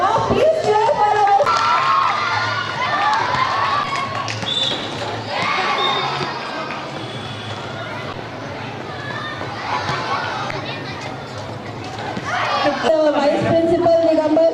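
Schoolchildren at a school sports day cheer and shout loudly for the vice principal's goal, with waves of high-pitched screaming and crowd chatter rising and falling throughout.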